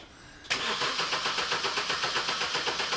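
A car engine cranking over after a brief quiet moment following an exhaust manifold refit, a rapid rhythmic churning that continues steadily without catching.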